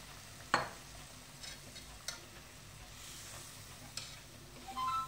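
Moth bean stock being added and stirred into a pan of Kolhapuri misal gravy, a quiet soft sizzle broken by a few sharp spoon clinks and scrapes.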